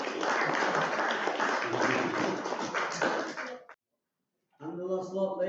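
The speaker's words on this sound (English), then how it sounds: "Give him a round of applause." Auction audience breaks into dense, steady applause for about three and a half seconds, then stops abruptly; after a short silence a voice begins speaking.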